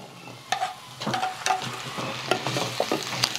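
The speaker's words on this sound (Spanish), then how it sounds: "Una movidita para que se vaya aquí cociendo un poquito el jitomate y vaya soltando el juguito" Tomato and onion frying in a pan are stirred, with scraping strokes and clacks over a continuous close sizzle.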